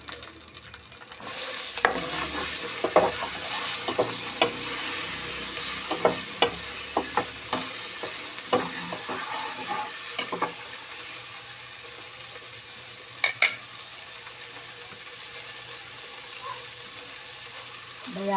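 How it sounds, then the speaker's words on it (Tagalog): Tomatoes sauté in a pan as a sinigang base for snapper head, with a soft sizzle under sharp clattering strokes of a spoon for about ten seconds, then a quieter simmering hiss with a couple of late knocks. "Lagay ko na yung aking kamatis. Igisa ko siya muna."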